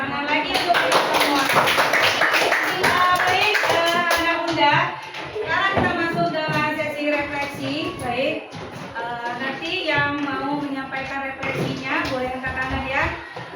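Children in a classroom clap hands together in a rhythmic clap game, sharp claps falling in patterned bursts while young voices chant and sing along over them.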